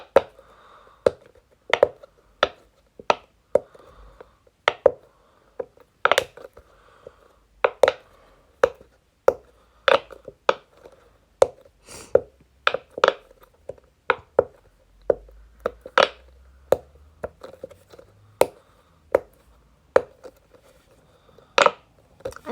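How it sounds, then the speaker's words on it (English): Bubbles on a regular-size Pop-It ball toy are pressed one after another, giving sharp, close, dry pops at an uneven rhythm, roughly thirty in all, with faint handling noise between them. "this is my regular size Pop-It ball"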